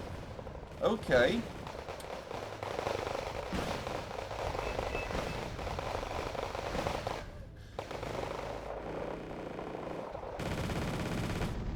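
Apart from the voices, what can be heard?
RPK machine gun fire in the video game Wargame Red Dragon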